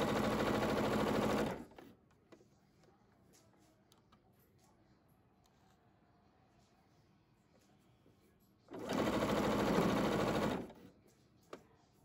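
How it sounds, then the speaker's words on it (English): A sewing machine stitching quilt blocks runs in two loud, steady whirring bursts of rapid stitching, each about two seconds long, with a quiet pause of faint handling noises between them. "You can see I'm holding it taut as I'm stitching it."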